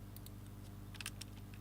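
Someone types on a computer keyboard: a few sparse, faint key clicks, with a small cluster near the end, over a steady low hum.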